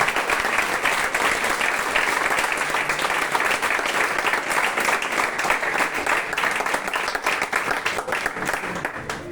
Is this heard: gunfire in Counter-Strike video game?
no